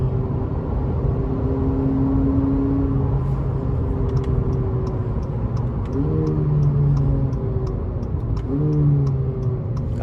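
Interior of a 2021 Acura ILX A-Spec with a dual clutch transmission accelerating, a steady engine drone rising in pitch with quick shifts between gears, plus a faint rhythmic ticking such as a turn signal in the cabin.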